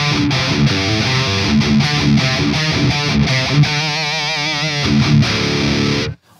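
A heavily distorted electric guitar, a Jackson Brandon Ellis Signature Kelly, chugs through tight, palm-muted metal riffs, loud and continuous, then cuts off abruptly at the end.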